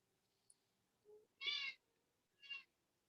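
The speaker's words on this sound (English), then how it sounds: "I hear a kitty cat." Cat meowing indoors, two clear meows, the first longer and louder, the second shorter, following a brief faint chirp against quiet background.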